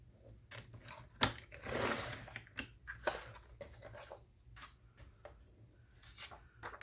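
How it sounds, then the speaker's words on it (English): Scissors cutting tulle for a journal pocket: quiet, close snipping and soft crinkling of fine netting, a string of small irregular clicks with one sharper snap early on, over low background hum. "we're going to cut here"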